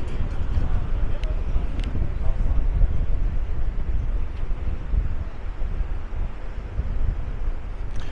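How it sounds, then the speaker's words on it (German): Strong, steady wind buffets the microphone outdoors in Maspalomas, Gran Canaria, a continuous roaring rush for the whole stretch, with no voices over it. "Und hier hat es ein bisschen mehr Wind."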